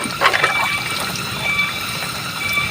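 Tap water runs steadily while dishes are washed outdoors at a hillside home, a continuous trickling splash with a few brighter clinks near the start, moderately close and without talk.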